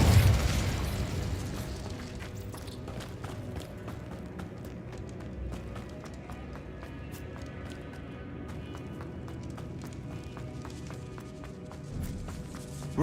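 Incendio fire spell cast in the video game Hogwarts Legacy: a loud burst at the start that fades into a steady crackling rumble under a soft musical bed, with no talk.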